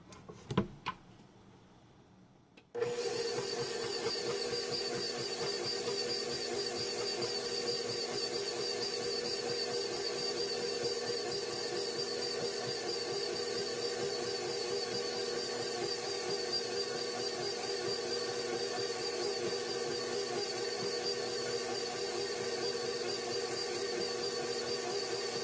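After a few faint clicks, an electric mixer starts up and runs steadily, blending flour into blueberry muffin batter with a continuous whirring hum and no pauses.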